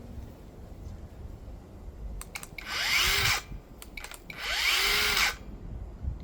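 A Hercules 4.5 inch cordless saw run twice with the trigger held, each a loud whirring motor burst of about a second spinning up and winding down, separated by clicks and handling noise.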